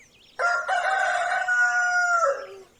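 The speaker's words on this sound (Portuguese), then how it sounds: "Acordava todo dia com o cantar do galo por volta das 5." A rooster crows at a rural smallholding, one loud, close, drawn-out cock-a-doodle-doo standing alone against a quiet background.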